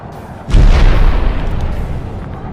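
Heavy cartoon bomb blast in an animated attack on a monster: a sudden loud booming explosion hits about half a second in, followed by a long rumbling roar that slowly fades.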